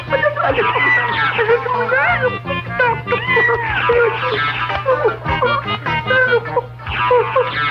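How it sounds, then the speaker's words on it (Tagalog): A cat meows repeatedly in drawn-out, rising and falling cries, close and fairly loud, with a low electrical hum and some voices behind. "pusa lang yan"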